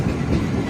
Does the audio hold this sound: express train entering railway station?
yes